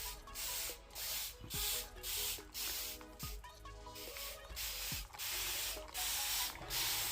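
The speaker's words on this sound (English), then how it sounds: "Looks like I'm spraying a lot" A spray bottle mists water into a tarantula enclosure in a steady series of short hissing squirts, about one per second, close by.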